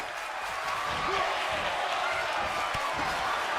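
Arena crowd noise in the WWE 2K22 wrestling video game, a dense continuous roar of cheering and chanting that stays loud and steady throughout, with no clear talk over it.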